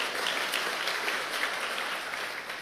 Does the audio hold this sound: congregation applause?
yes